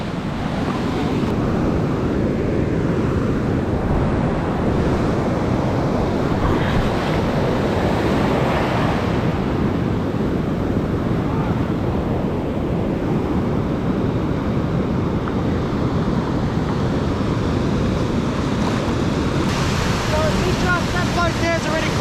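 Ocean surf at a secluded beach near Port Fairy rolls and breaks continuously, loud and close, with wind buffeting the microphone and faint voices now and then.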